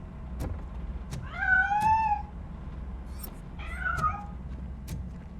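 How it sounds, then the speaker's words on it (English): A cat meows in the video game RoboCop: Rogue City, two drawn-out wavering meows a couple of seconds apart over a low ambient hum, with faint clicks between them. "That cat must be hiding inside."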